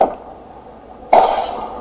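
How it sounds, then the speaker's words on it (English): A shot in the video game Amnesia: The Dark Descent shatters glass with one sudden loud crash about a second in, followed by a bright ringing tail after a quiet lead-in. "Perfect shot. It broke the glass."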